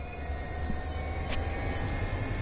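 Steady low rumble and rolling drone of a double-deck gallery passenger car on a southbound service in the Train Sim World 2020 game, set on the San Francisco Bay Area line, with one brief high hiss or squeal partway through.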